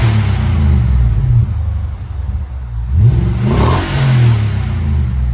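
Nissan Armada with a 5.6L V8 and Flowmaster Super 10 exhaust, idling with a deep rumble, then blipped in one sharp rev that rises and falls back to a throbbing idle, close and loud.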